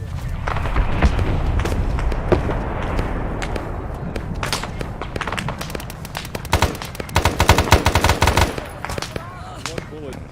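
Rapid bursts of automatic gunfire and single shots crack through a chaotic firefight in ARMA 3 SOG Prairie Fire, heaviest and densest toward the end, with voices faintly mixed in.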